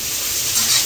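Two to three spoons of garlic hitting hot oil in a frying pan for a mutton dish, a bright, loud, continuous sizzle up close.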